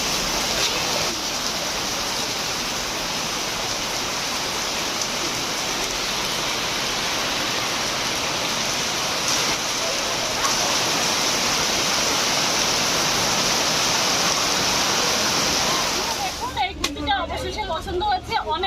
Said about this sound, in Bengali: দেখুন বৃষ্টি শুরু হয়ে গেছে।